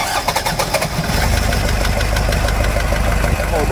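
A 1997 Toyota SW4 3.0 turbo engine with a fault turns over and catches, then runs loud and rough with an uneven, knocking idle close by.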